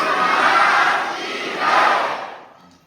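At a spiritual discourse, a big gathering roars a jaikara victory cry in two swelling bursts, loud and massed, fading out at the end.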